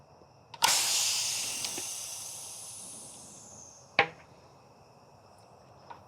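A tubeless gravel tire, no sealant and no valve core, is inflated with a charger pump: a sudden rush of hissing air decays over a few seconds, then a sharp pop of the bead seating and a smaller click later.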